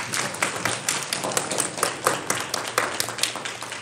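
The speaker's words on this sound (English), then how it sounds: "So if you will please give them a huge round of applause for that." Graduating students at a meeting are cheered with a round of applause from a room full of people, dense rhythmic clapping with sharp individual claps standing out, fairly close and steady throughout.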